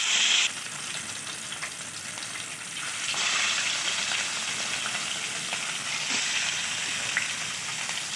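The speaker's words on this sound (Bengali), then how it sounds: "এরপর এক এক করে মাছগুলো দিয়ে দিচ্ছে।" Fish pieces dropped one by one into hot oil in a wok give a continuous frying sizzle, with louder bursts as each piece goes in.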